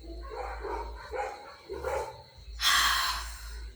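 Several dogs bark in a few short, somewhat muffled bursts a little way off, spaced over a few seconds over steady background hum, with no talking.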